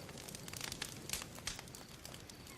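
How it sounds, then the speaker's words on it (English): A crackling fire from an animated Samurai Jack episode gives off steady, dense crackles and small pops at low volume, with no voices. "to the crackling fire"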